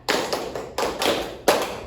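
Three crisp hand claps spaced evenly about seven tenths of a second apart, close and clear in a quiet room, forming a steady counted beat.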